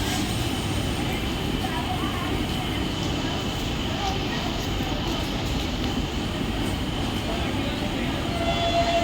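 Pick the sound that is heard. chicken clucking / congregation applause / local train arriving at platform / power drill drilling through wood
local train arriving at platform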